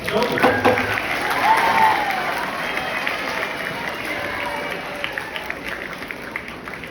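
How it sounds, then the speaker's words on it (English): A large audience at a Model United Nations style opening session applauds a Secretary General, a broad continuous wash of clapping that swells early, then thins slightly while a few louder claps poke through near the end. "Let's give her a warm round of applause."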